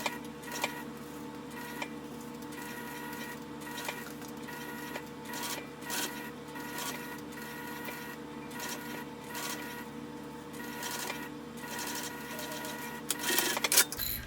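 A sewing machine runs steadily, stitching a straight seam in fabric, its fast mechanical ticking and whir continuing evenly throughout with a brief louder clatter near the end; no one speaks.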